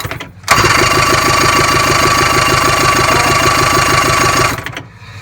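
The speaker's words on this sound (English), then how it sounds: "I'm gonna point it at it and turn the engine over." A Force 120 hp outboard engine starts abruptly and runs loud and steady with a fast, even pulsing chug before cutting off near the end, with no speech over it.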